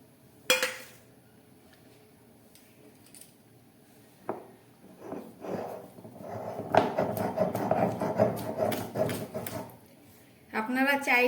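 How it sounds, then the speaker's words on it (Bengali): Masoor lentils ground on a stone shil-nora slab, rhythmic gritty rubbing and knocking of stone on stone building to a steady scrape, heard close with a dog barking and a voice at moments. "এবার এটাকে আমি শিলনোড়ার মধ্যে দিয়ে বেটে নেব।"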